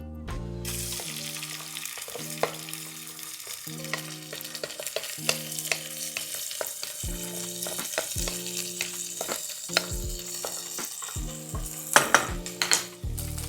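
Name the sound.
rice frying in vegetable oil in a pan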